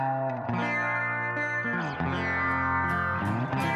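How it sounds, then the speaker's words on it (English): Electric sitar run through a Space Echo tape echo unit, playing sustained, buzzing, wavering tones with a continuous chorus-like shimmer and distortion, steady and close with no talking. "I had this electric sitar going through a space echo."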